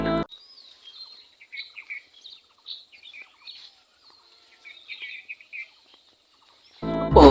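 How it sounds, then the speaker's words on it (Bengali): Birds chirp and twitter in quick, scattered bursts throughout a Bangladeshi village, fairly faint and distant, ending with a louder rustling thump. "পাখির কিচির মিচির মিছিল"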